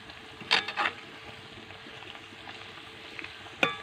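Pieces of a tender jackfruit snack frying in hot oil, a soft steady sizzle broken by a few brief louder crackles and stirring splashes near the start and end.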